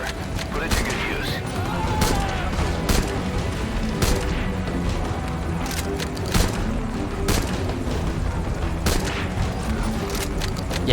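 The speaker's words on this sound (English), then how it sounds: "The rifle is equipped with an underbarrel grenade launcher. Put it to good use." Repeated rifle shots and booms from a rifle fitted with an underbarrel grenade launcher in Metal Gear Solid V: Ground Zeroes, sharp bursts spaced irregularly over busy game noise, with talking mixed in.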